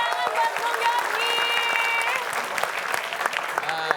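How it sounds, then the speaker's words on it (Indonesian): A studio audience on an Indonesian quiz comedy show applauds for a contestant named Yogi, steady clapping mixed with music tones and a voice over the top. "Tepuk tangan buat Bung Yogi."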